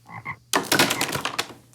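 Frogs croak in a burst of raspy, overlapping calls, loud and close, after two short softer croaks at the start.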